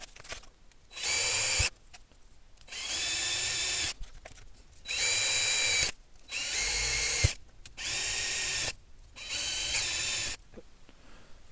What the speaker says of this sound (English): I'm drilling it from the back through to the front